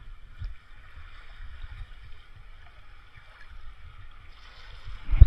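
Waves rise and slosh against a small wooden fishing boat at sea, a faint low rumble of lapping water that ends in a sharper knock against the hull.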